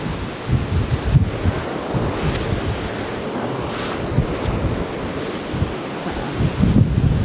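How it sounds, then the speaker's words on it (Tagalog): Wind blows steadily over a beach campsite in Malico, Pangasinan, a broad rushing roar with gusts buffeting the microphone and surf rumbling underneath, continuous and fairly loud. "Hindi ko alam kung captured sa camera kung gaano kahina yung hangin ha."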